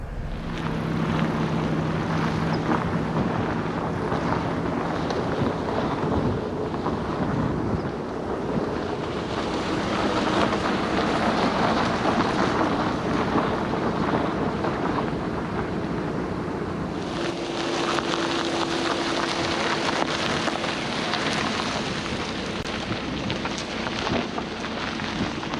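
A 2022 Audi S3 rolls over a bumpy, dusty off-road stretch, heard as a dense, continuous rumble and broadband wind-like roar with a shift in tone partway through and no voices.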